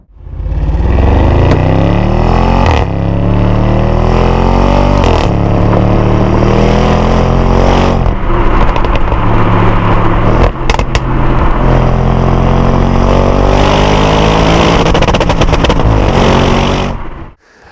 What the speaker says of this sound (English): it makes a dirty, dirty noise with that sports exhaust